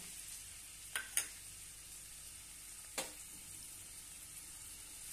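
Onion with mustard seeds and cumin sautéing in hot oil for sweet corn poha, a soft steady sizzle with a few brief stirring clinks standing out.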